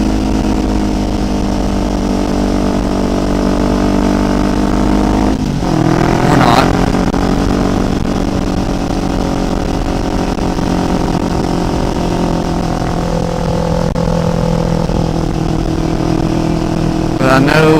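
A motorcycle engine holds second gear while climbing a winding mountain road. It drones loud and close throughout, with a brief surge of revs partway through and a steady roar under the rider's occasional voice.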